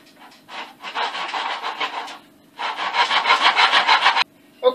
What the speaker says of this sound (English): We'll put it in our miter box here and cut the length